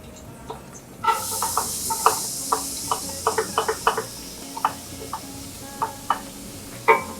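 Chopped red onion goes into a pan with beans and starts a soft sizzle, followed by a series of sharp spatula knocks and scrapes against the pan at an irregular pace, close and alone.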